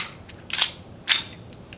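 Two sharp, snappy shots ring out about half a second apart from an AW Colt 1911 gas handgun fired at a target roughly 8 m away, with a fainter click between them.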